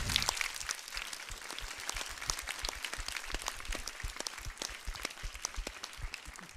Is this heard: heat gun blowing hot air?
no